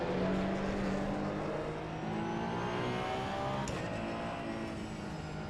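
BMW race car in the AC EVO racing video game, a sustained close engine drone with shifting harmonic tones under steady revs, one brief sharp tick midway, no talking.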